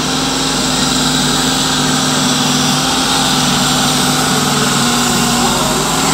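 The electric motor and gearbox of a scale model run at an exhibition, giving a steady, loud mechanical whine and hum with no pauses and no talk.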